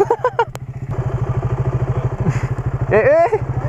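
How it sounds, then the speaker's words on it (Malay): A loud motorcycle engine idles nearby with a fast, even pulsing thump, while people talk over it. "Bising gila motor kau."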